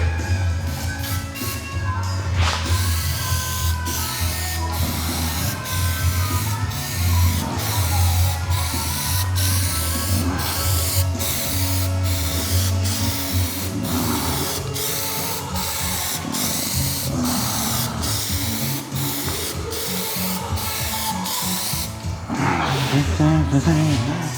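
Plastidip Glossifier being sprayed onto a Porsche Cayman spoiler: a long, close aerosol hiss broken by many short rhythmic bursts and pauses, with faint background noise throughout.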